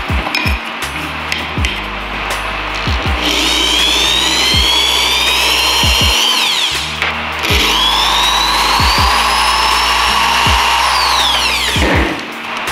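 A power drill cuts holes in an aluminum pedal for a BMW E46 Rennline pedal kit: repeated bursts of high, rising motor whine, with sharp metallic taps and clinks between passes, close and loud.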